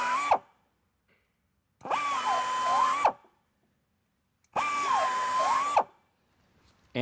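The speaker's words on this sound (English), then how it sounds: "Using a low-speed buffer and the carbide cutter, we'll go in there and we'll ream the injury out and remove the damage" Low-speed buffer spinning a carbide cutter to ream out a damaged injury in a tire, heard as two separate bursts about a second long each, loud and close, with a whirring whine that rises and dips under load and no talk.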